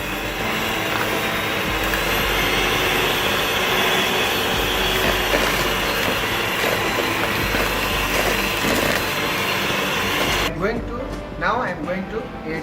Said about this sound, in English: You can mix with your egg beater.